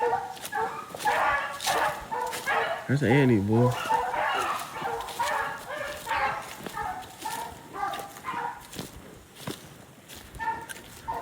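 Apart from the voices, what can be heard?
hunting dog puppies yipping and whimpering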